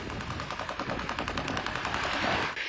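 Rapid bursts of gunfire crackle in a continuous automatic stream, loud and harsh, with little else audible.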